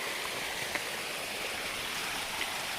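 Water rushing down a natural rock water slide beside a foothills hiking trail, a steady broadband stream wash heard at moderate distance with no talking.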